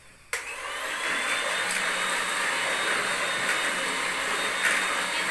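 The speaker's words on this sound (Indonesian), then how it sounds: "lalu kita kocok dengan kecepatan sedang ke tinggi" A hand or stand mixer switching on abruptly and beating purple sweet potato cake batter at medium-high speed, a steady loud whirring hum that holds constant to the end.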